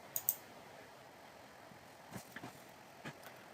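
Two quick mouse clicks close together, then a few fainter taps, as Close and Load is selected in Excel in a quiet room.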